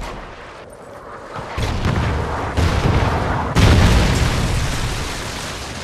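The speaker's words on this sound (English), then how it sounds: "Friendly Trinity rocket inbound" Trinity rocket strike in Call of Duty Ghosts multiplayer, a series of heavy booming explosions landing one after another, loud and rumbling, building in intensity with deep blasts and lingering roar.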